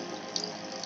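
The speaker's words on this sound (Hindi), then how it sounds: "ये देखिए दोस्तों मोटर चालू हो गई" A small homemade DIY water pump motor runs with water, giving a steady close whirring hiss with light splashing and no talking.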